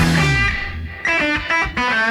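Electric guitar in a song, its reverb tail squealing and decaying with a distorted tone, sustained chords swelling and dropping back over about two seconds of loud, steady music.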